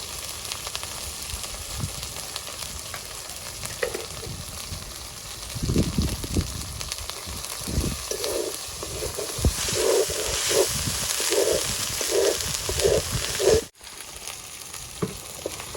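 Spices sizzle in hot oil for a duck and coconut curry, a continuous crackling fry with repeated scraping stirs that grow busier midway, close up, with a sudden short drop near the end and no speech.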